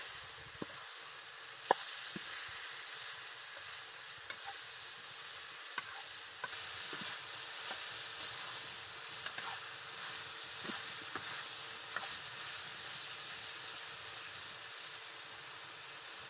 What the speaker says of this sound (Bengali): এর ভিতরে এবার আমি নারকেল দিয়ে দিলাম। এবার এটাকে ভালো করে ভেজে নিতে হবে।